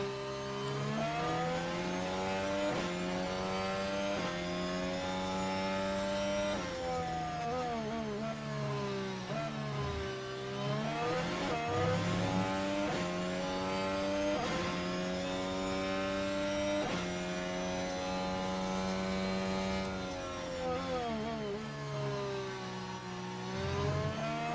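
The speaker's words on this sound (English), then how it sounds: "the Red Bull engine is my favourite engine sound." Red Bull Formula 1 car engine at Imola in a racing video game, a loud, continuous high-revving scream with rising and falling pitch through gear changes, steady throughout without talk.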